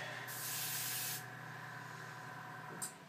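An airbrush with a 0.05 mm tip at about 25 psi sprays Auto Air Sparklescent Mango paint onto a Lamborghini body: one airy hissing burst of about a second, then a quieter background and a brief puff near the end.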